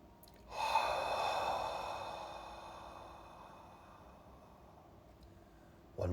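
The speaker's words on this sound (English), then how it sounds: "Please take a deep inhale." A single slow, deep breath drawn in and out during a guided meditation, close and soft, swelling then fading over several seconds, with a faint catch at the end.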